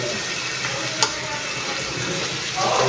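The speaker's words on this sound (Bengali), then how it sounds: "মশলাটা কষানো হয়ে গেছে" Chicken spice masala frying in a pan, a steady, fairly loud sizzle with one sharp clink near the middle and a brighter surge of hissing toward the end, no talking over it.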